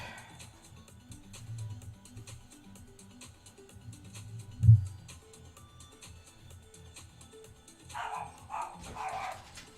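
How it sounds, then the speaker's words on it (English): A dog barks a few times, muffled and somewhat distant, over a low steady hum, with one sharp louder bark in the middle. "Oh gee, what a surprise, the dog is barking."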